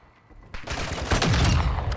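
Gunfire in Call of Duty Modern Warfare II DMZ mode: after a quiet half second, a close, loud burst of rapid automatic shots erupts and keeps rattling steadily to the end.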